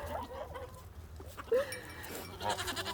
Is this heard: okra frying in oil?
no